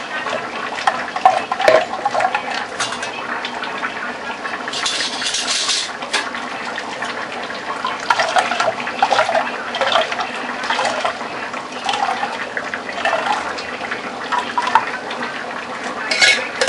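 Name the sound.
filtering ground coconut to extract coconut milk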